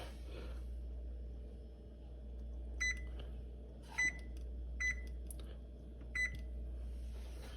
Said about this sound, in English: now we are going to set a timer for 60 minutes